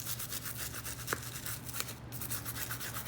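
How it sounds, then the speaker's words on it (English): A small toothbrush scrubs paint onto a pumpkin in a series of soft, steady, close bristle strokes over a low background hum, with no voices. "So I'm just using my toothbrush because sometimes it's easier to work with something a little bit smaller"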